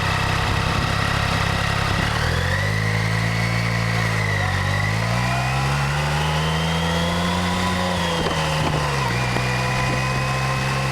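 A motorcycle engine runs steadily throughout a ride on UK roads, its pitch rising and falling with throttle changes, loud and close with constant wind rush and no talk.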